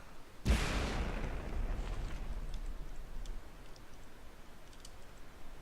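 A cram cannon fires in the vehicle-combat game From The Depths, one loud, heavy boom that rolls off into a long fading rumble, followed by faint scattered ticks.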